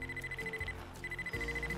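Alarm clock ringing in the video game Happy Wheels, a steady electronic beeping tone that pauses briefly in the middle, then resumes over a low pulsing background of game music, moderately quiet.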